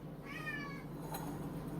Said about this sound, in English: You heard meowing.